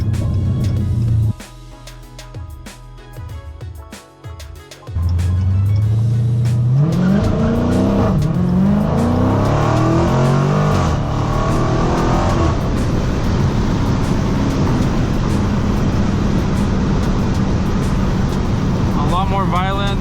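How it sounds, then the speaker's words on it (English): A Dodge Challenger SRT roars through a 0-60 launch, its engine revving hard and climbing in pitch while the tires spin continuously, loud and close. "Tire spin, tire spin, tire spin, non-stop tire spin."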